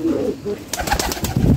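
Pigeons and doves in a small backyard loft built from bricks and drums give low, soft coos, with a brief break midway before the cooing returns more fully near the end.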